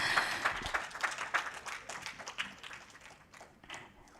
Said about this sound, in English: please, just give them a big, big round of applause